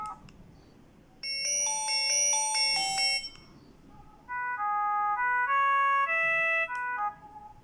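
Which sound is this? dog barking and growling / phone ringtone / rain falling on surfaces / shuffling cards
phone ringtone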